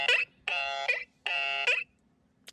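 An electronic alarm effect blares in two long buzzing tones with a short blip before them, loud and harmonic, alone with no talk.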